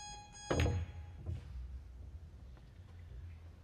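A short series of high electronic beeps from a shot clock sounds at the start, followed by a dull thud and quiet ambient murmur, during a pool match.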